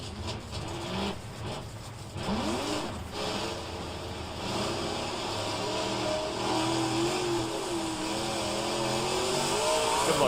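Race car engines rev and drone ahead of a rolling start, their pitch wavering and climbing as the steady, rising engine noise fills the scene.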